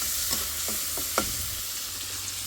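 Onions frying in a pan, with a steady soft sizzle and a few quick scraping strokes from a spoon as they are stirred. The sound is fairly quiet and continuous, and no one speaks.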